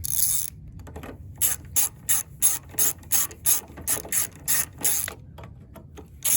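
A 5/16 socket wrench ratchets carburetor bolts back into a Briggs and Stratton Quantum engine, giving about a dozen crisp, evenly spaced clicking bursts close up, with no talking.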